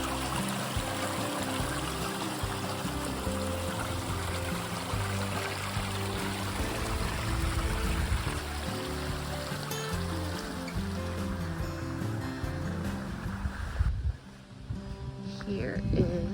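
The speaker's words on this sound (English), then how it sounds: "someone has said it's like the water magically comes out of the tree" Water trickles out of a tree beside a mountain shelter on the Appalachian Trail in Georgia, a steady close splashing flow that runs continuously with little change.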